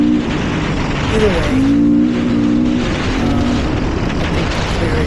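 A 2020 Beta 500 RR-S dirt bike engine revs up in the desert, a loud, continuous motor roar with rising and falling pitch across the whole stretch.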